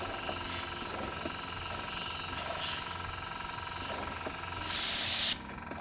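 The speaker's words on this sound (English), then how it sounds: "the hard thing with the airbrush is you get a bit excited as you're going and you can push the button harder and actually get too much airflow" Steady airbrush hiss spraying alcohol ink onto a ceramic tile, a close continuous airy rush that swells briefly louder near the end before cutting off sharply.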